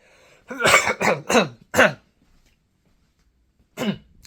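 Four harsh coughs in quick succession, close and loud, followed by a pause and one more cough.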